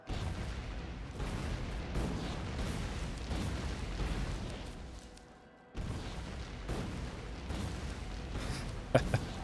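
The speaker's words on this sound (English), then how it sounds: "you can actually blow up cliffs or big rocks" Grenades set off in the video game Factorio to blow up cliffs and big rocks, heard as a dense run of loud booming blasts with a brief drop in the middle, then more bursts continuing.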